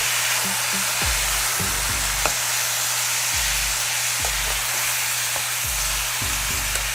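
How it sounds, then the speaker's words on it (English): Carrot and fresh tomato stirred into a hot pot with garlic and thyme for Jamaican oxtail stew, a constant loud sizzle broken by repeated low thumps and scrapes of the spoon, with no talking. "a little bit of carrot, some nice fresh tomato, and we're going to stir it up."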